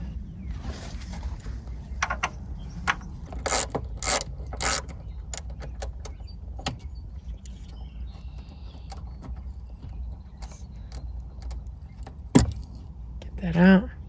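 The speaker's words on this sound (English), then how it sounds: "And this bolt in the hinge here, you want to undo that one." A bolt in a Jeep Wrangler door hinge is worked loose, giving scattered metallic clicks and clanks, close and fairly quiet, with a short jangling rattle near the end over a low steady background hum.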